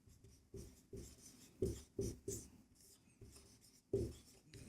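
Handwriting during a Class 10 maths lesson: soft, close pen strokes tap and scratch in short, uneven bursts with brief pauses, quiet and without talk.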